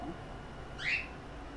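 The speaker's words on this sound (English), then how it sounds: "Don't mind my bird." Pet bird at home giving a brief whistled call, one short rising chirp over quiet room tone, fairly faint and close.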